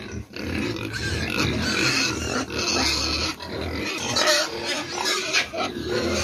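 Pigs around 90 days old on a farm grunt and snort continuously at close range, a dense, rough chorus of overlapping animal noise with no speech.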